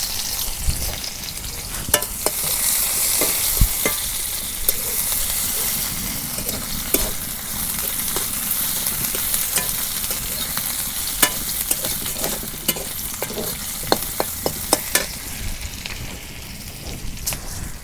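Chopped onion frying in hot oil in a traditional rural kitchen: a loud, steady sizzle close by, dotted with sharp pops and crackles throughout.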